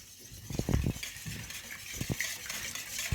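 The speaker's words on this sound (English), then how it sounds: "let's whisk this up" Whisking in a bowl at a home kitchen cooking session with kids, quick rhythmic scraping strokes in short bursts with a few clinks of a utensil against the bowl, close and moderately loud.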